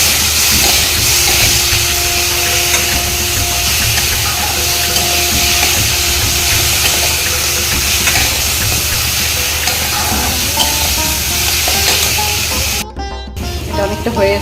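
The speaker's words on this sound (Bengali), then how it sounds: "এর মধ্যে আমি এখন আদা, রসুন আর একটু লঙ্কা বাটা ঢেলে দিলাম" Ginger, garlic and chili paste fries in a hot pan with sugar, giving a loud, steady sizzle that runs on continuously, then briefly cuts out near the end.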